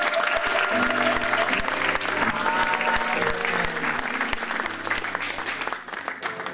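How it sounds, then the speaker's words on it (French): A church congregation applauding and cheering for mothers and sisters, sustained loud clapping from a crowd with a few raised voices mixed in, fading slightly toward the end. "Est-ce qu'on peut acclamer nos mamans, nos sœurs?"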